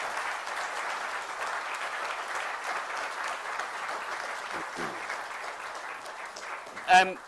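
An audience at an industrial and logistics event applauds its panellists with a sustained, even wash of many hands clapping, then a brief louder thump and voice near the end as the clapping fades.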